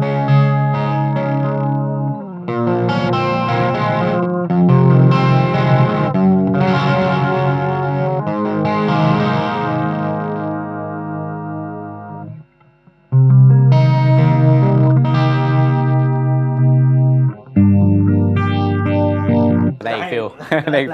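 An electric guitar plays through a NUX Mighty 40BT amp with mixed effects, giving loud distorted chords and riffs with chorus and echo in several bursts separated by short pauses, with talking over parts of it.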